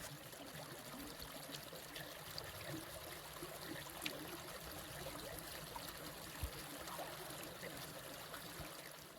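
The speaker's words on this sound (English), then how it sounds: "Nice creek." Water in a creek near a campsite along the Appalachian Trail between Woody Gap and Cooper Gap flows steadily, a soft continuous trickling wash heard faintly and alone.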